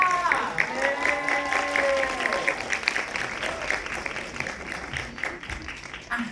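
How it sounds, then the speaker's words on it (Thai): An audience at a Thai series EP.4 viewing event applauds the cast: moderate clapping runs throughout, with voices and cheering tones layered over it near the start. "ขอเสียงปรบมือให้กับนักแสดงทุกคนด้วยค่ะ"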